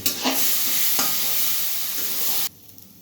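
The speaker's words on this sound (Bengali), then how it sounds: "আদাটাকে একটু ভালো করে ভেজে নেব" Ginger frying in a pan while making paneer bharta, a loud continuous sizzle with stirring scrapes near the start, cutting off abruptly to quiet near the end.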